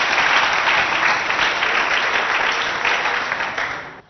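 An audience applauds to welcome students from Lycée Idriss Miskine at a school quiz event in Abéché: dense, steady clapping from a crowd fills the whole stretch and fades sharply at the very end.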